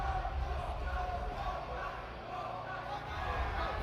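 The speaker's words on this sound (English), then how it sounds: "I'm quite certain they're cheering for Romania." A crowd cheers and roars for Romania in an arena at the EuroArm junior right-arm arm wrestling finals, a dense, steady wash of voices heard from some distance.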